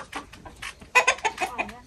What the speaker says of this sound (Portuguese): A galinha entrou.